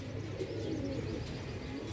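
A breeding pair of pigeons, a double-crested male and a single-crested female, coo softly and quietly, with low repeated throaty calls and no other sound.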